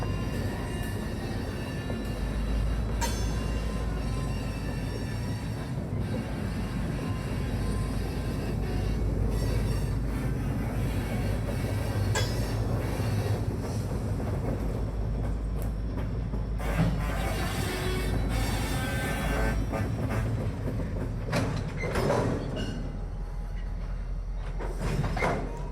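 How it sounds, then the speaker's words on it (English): A locomotive shoving empty tank cars onto a loading track at an ethanol plant, with a continuous low engine rumble, rolling rail noise, clanks and occasional squeals, steady throughout at moderate distance. "Red's final move for the morning is to shove the empty tank cars to the loading track"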